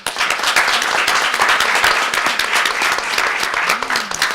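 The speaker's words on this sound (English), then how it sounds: "we give a big hand of applause to our panelists" A conference audience applauds panelists at the close of a session on digitalisation and child well-being, a steady dense wash of many hands clapping throughout.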